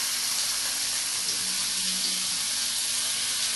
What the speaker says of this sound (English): Let's add the prawns